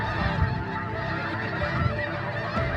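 Snow geese honk in a wheat field during a spring hunt: a dense, overlapping chorus of loud, nasal calls from a large flock, continuous and close.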